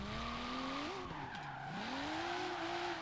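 A Rocket Bunny Nissan S14 Kouki with a 650 hp V8 drift build slides in a racing game, its tires holding a loud, continuous squeal that bends in pitch as the car drifts.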